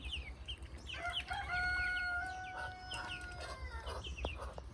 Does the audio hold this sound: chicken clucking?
yes